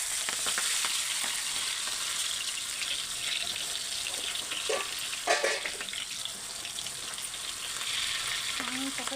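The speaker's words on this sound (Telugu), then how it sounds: "ఇదే కాగిన నూనెలో మనము ఇలా పాలకూర విడివిడిగా వేసుకుందాం" Spinach leaves dropped into hot oil for pakoda fry with a steady, bright sizzling hiss close by, with a few clinks and stirring sounds.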